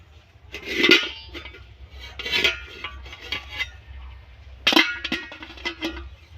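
A lid being set over a pot of water in a home kitchen while making crisp flour papad: a few metallic clinks and scrapes of metal on metal in separate bursts, fairly quiet and close, with soft handling noises between them.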